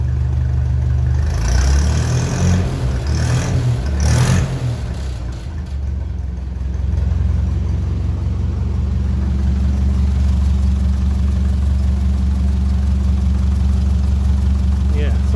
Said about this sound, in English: So we give it a rev and we see if it's